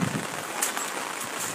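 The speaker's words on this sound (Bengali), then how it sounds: "তীব্র বৃষ্টি ঝড়" Heavy rainstorm over a waterlogged road in Bangladesh, a dense, steady hiss of rain with a few brief gusty swells, filling the background without any talk.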